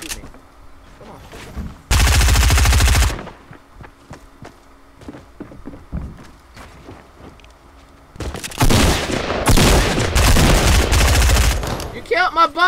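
Gunfire in the video game Fortnite Battle Royale: two loud sustained bursts of rapid shots, one short and one longer near the end, with scattered quieter shots and a voice talking between them.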